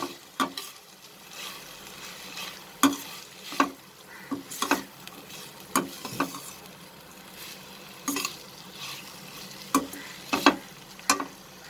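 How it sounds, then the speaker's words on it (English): Bitter gourd and onion stirred with spices in a pan, a soft ongoing sizzle broken by irregular scraping and clattering strokes of the spoon, moderately close. "now I am going to mix it with the spices"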